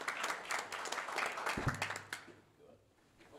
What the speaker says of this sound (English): Let's give a round of applause for Jack Hathaway, Student of the Month